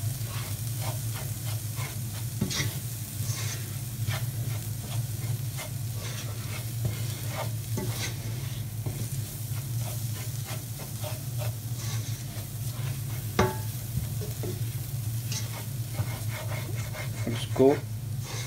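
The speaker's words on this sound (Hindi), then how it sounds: "अब हम इसमें ऐड करेंगे धनिया पाउडर, जीरा पाउडर और इसको अच्छे से मिक्स कर लेंगे।" Vegetables frying in a pan as coriander and cumin powder are stirred in, giving a steady close sizzle with intermittent scraping and stirring knocks throughout.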